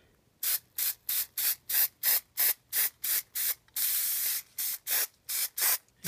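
A spray paint can sprays blue paint in a rapid run of short, loud, close hissing bursts, about a dozen evenly spaced, with one longer continuous spray in the middle.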